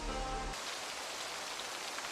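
Steady rain falls on surfaces in a survival game, a constant dense hiss with no pauses, moderately quiet and heard alone.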